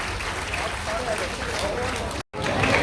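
Loud, continuous applause from a crowd at an award and welcome ceremony in Gurugram, a dense, steady wash of clapping with a brief cut near the end.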